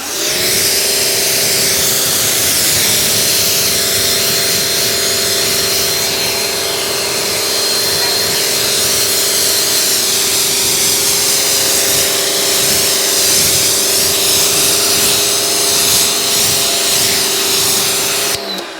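Steady, loud pressure-washer spray of water rinsing cleaner off a floor, running continuously for the whole stretch with a constant motor hum beneath the hiss.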